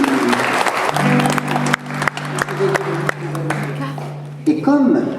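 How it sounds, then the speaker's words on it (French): An audience claps in a hall while a voice talks over the opening, and a sustained hum runs underneath. The applause is dense and fairly loud at first, then thins into scattered claps. "On peut l'applaudir"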